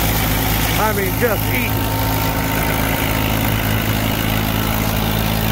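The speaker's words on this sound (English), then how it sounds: "The 45 is eating on this fucking 10-inch auger" A 45 combine's engine idles at a steady low drone throughout while a 10-inch auger unloads organic corn at harvest, with someone talking briefly over the running machinery.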